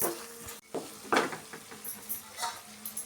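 Frying in oil with turmeric and salt for egg fried rice: a soft sizzle under intermittent scraping and stirring in the pan, with light metallic clinks of utensil against cookware.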